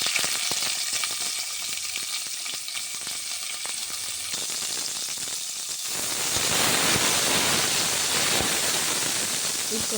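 Onion sautés in hot oil with whole spices and cumin seeds, a continuous close sizzle that swells louder and denser partway through as more goes into the pan, with no clear talking.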